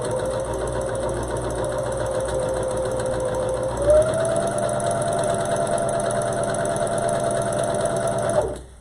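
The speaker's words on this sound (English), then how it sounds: "and then sew my seam closed" A sewing machine stitches a seam on a cloth face mask, a close, steady rapid whirring hum that runs continuously, shifts slightly in pitch midway, then stops abruptly.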